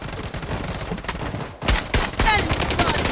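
Gunfire in the shooter game Blood Strike, rapid bursts of shots that fade in the first half, then a loud impact and renewed close, rapid firing.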